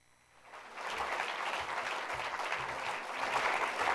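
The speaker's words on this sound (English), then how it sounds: "Let's give her another round of applause." An audience at a festival's inaugural address breaks into applause that swells up from quiet within the first second, then carries on as full, steady clapping from a large crowd.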